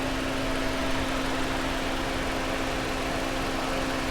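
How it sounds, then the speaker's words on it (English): A 2017 Toyota Camry LE with a stock four-cylinder engine idling, a steady smooth hum with a constant low tone and broad noise, close and even throughout. "Toyota, little 4-cylinder engine."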